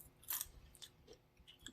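Close-up crunching of cinnamon sugar pumpkin seeds being chewed, a loud crisp bite followed by several softer, irregular munching crunches.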